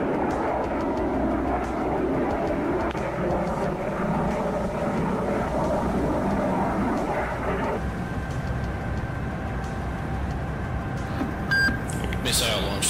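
An aircraft roars overhead in a 2002 Russian naval combat game campaign with the carrier Kuznetsov. A continuous broad engine rush is layered with electronic beeps and alert tones, while a voice speaks over it.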